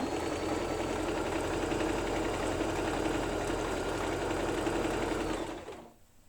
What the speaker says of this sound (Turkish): başlangıç yerimize kadar dikeceğim.